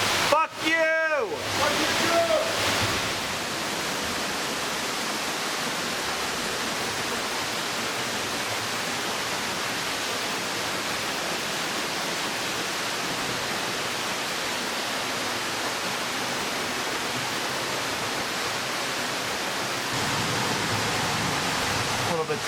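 Water pours down inside a Norwegian cave as a continuous, loud, even roar of rushing water, close and unbroken, with brief voices and handling noise at the very start.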